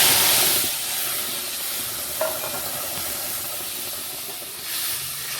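Spice paste and tomato paste sizzle loudly in a pan after frying tilapia, a steady hissing roar with a sharper burst at the start that settles into continuous sizzling.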